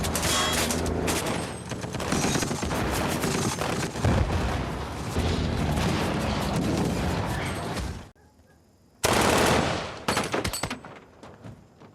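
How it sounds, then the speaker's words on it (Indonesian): Warning shots fired from rifles in a war film, a dense, sustained fusillade of loud gunfire for about eight seconds, then a brief lull before another sharp burst of shots that tails off. "Tembakan peringatan dari Garza tampaknya tak dihiraukan supir truk ini"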